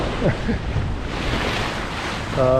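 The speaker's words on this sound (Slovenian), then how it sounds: "Zdaj začela spet pihati pa valove" Wind blows and ocean waves wash around a sailing boat on an open-sea passage toward the Maldives: a constant, broad rushing roar with wind buffeting the microphone, and a brief tonal hum near the end.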